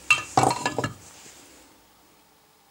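A crankshaft being fitted into a Solex 5000 moped engine, with a handful of quick metallic clinks and knocks in close succession, then a short ringing decay into near silence.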